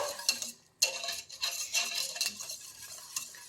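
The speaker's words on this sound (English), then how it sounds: "We then once again mix it all up." A spoon stirring butterbeer mixture in a pot or glass, several brisk scraping and clinking strokes close by, with a short pause near the start, and no one speaking.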